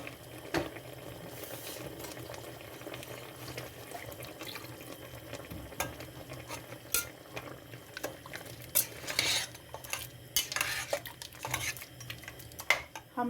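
A ladle stirs roasted ground masala into desi chicken in a kadai, scraping the spices off the sides with repeated metallic scrapes and clinks over a soft background sizzle, with no talking.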